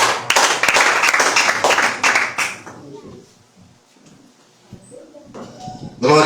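Church congregation clapping in praise for an arriving preacher, a dense burst of many hands for about two and a half seconds, then fading into quiet room noise before another swell at the end.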